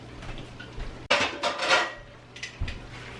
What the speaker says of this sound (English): And then we need to put a lid on it.